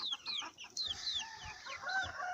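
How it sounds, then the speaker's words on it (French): A small male quail calls among chicks, giving sharp, high, repeated whistling notes over a soft background of clucking poultry. "ce qu'on entend, c'est mon petit mâle à caille"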